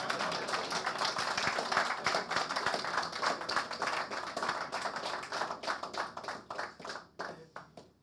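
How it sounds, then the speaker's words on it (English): An audience at a presidential dialogue event claps in a dense, steady round of applause that thins out toward the end, no speech over it. "Please clap for me."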